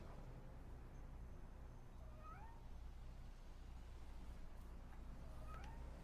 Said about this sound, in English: We've got a kitty over here. Save a kitty.